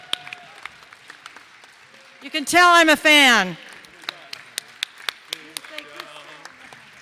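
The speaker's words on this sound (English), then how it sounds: "So let's give him big applause." At an environmental and climate crisis council event, scattered individual claps ring out around a loud, excited exclamation, then continue as sparse, sharp claps under a voice speaking briefly.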